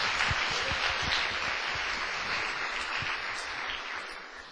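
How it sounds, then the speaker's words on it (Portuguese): An audience applauds for a man's wife: a dense, continuous wash of clapping from many hands that fades slightly toward the end. "Quantos podem dar uma salva de palmas para a esposa que está aqui lá?"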